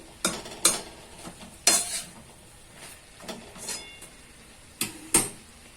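Tomatoes fry in a pan for khichuri while a utensil stirs them. Irregular scraping strokes, some sharp and close, sound over a soft, steady sizzle.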